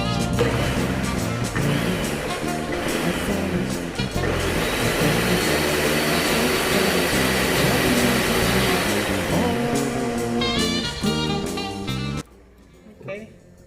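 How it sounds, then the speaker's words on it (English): An electric blender whirs through cooked beans for Nigerian gbegiri soup, a loud steady motor grind lasting about twelve seconds before cutting off, with a few quieter kitchen sounds after. "I have blended it and I've transferred it back into the pot."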